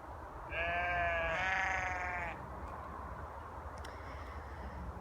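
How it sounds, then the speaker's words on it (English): A small flock of sheep in a field bleating, two overlapping wavering bleats close together near the start, then quiet outdoor ambience with a faint distant call. "Just our little flock of sheep all talking to each other there."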